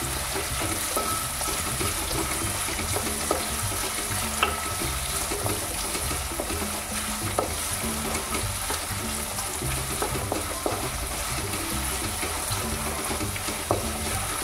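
Sliced onion sautéing in a pan for a traditional Marathi besan dish, giving a steady close sizzle with stirring scrapes and small clinks running throughout, no talking.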